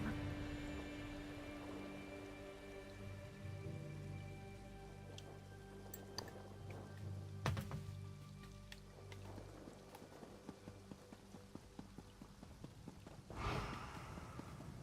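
A heavy rain downpour in the video game Elder Scrolls Online hisses steadily, with faint scattered drips and a few sharp ticks over a low ambient drone.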